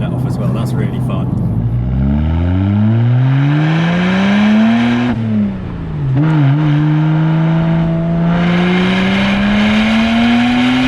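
A 486bhp E82 BMW 135i coupe pulls hard through the gears, engine note climbing steadily, dropping on a shift with a brief dump-valve release, then rising again; loud in-car sound with a voice talking over it.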